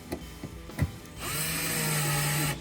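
A few light taps, then a right-angle power drill whirs steadily for about a second and a half before stopping.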